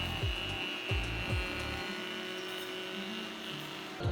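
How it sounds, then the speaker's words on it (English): A router table with a Whiteside Mega Flush Trim bit cuts wood, a steady high whine with repeated low thumps as the workpiece is fed along, close and continuous without talk. "I could take it over to my router table using the bottom bearing of my Whiteside Mega Flush Trim bit to follow the pattern"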